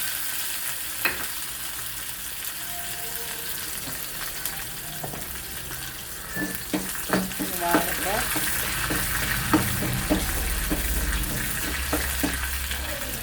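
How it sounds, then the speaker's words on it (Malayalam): Garlic fries and sizzles in a hot pan, a steady crackling hiss broken by scattered stirring clicks and scrapes that pick up after the first few seconds, heard close with no talk. "വെളുത്തുള്ളിയൊക്കെ മൊരിയുമ്പോൾ നല്ല സ്മെല്ല്"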